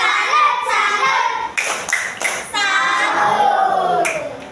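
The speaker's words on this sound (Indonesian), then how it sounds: "Maka kita beri salut, tepuk salut dulu." A group of children claps out a rhythmic 'tepuk salut' pattern in a classroom, crisp bursts of clapping in short clusters between chanted voices, loud and close.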